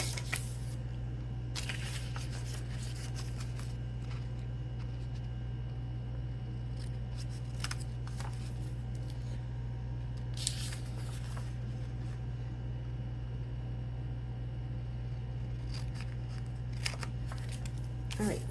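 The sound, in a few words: scissors cutting paper pieces from junk journal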